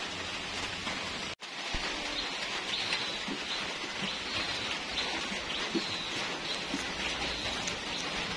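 Steady rain pours under a heavy overcast sky after a night of downpour, a dense continuous hiss with scattered drips and faint bird chirps, briefly cut by a short dropout early on.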